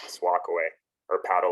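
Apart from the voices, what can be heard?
No everyday noises stand out.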